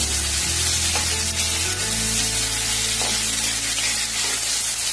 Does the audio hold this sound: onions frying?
yes